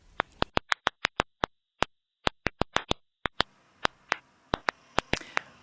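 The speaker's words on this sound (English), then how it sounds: "it's the sound of a stressed out, unhappy plant, with the frequency lowered so that our human ears can hear it" Ultrasonic clicks from a stressed plant, pitched down to audible range: a series of sharp, isolated pops at irregular intervals, some rapid clusters and short gaps, crisp and fairly loud against near silence.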